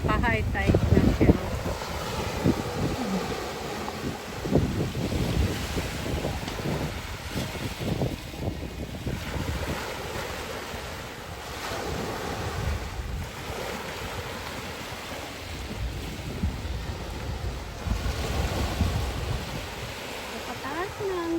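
Ocean waves surge onto a rocky beach as the tide rises, a broad continuous wash with repeated swells and wind buffeting the microphone, while people talk intermittently underneath.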